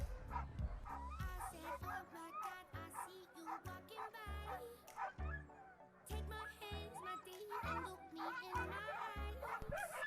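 Sled dogs bark, yip and whine excitedly at the start of an international sled dog race in Fort Kent, Maine, a dense, rhythmic chorus of many dogs close by, with a person's voice mixed in.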